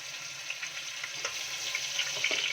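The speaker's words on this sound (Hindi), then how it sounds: "अब ऑयल में हम सबसे पहले लहसुन अदरक की पेस्ट शामिल कर देंगे" Garlic ginger paste frying in hot oil for a masala fish dish, a steady close crackling sizzle with scattered pops throughout and no talk.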